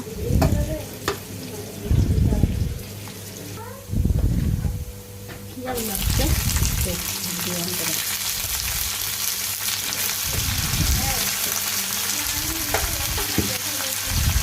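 Oil sizzling as bitter gourd fries with onions in a pan, with stirring clatter and spoken voices over the top; the frying grows louder and steadier partway through.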